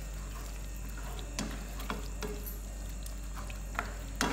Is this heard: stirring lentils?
yes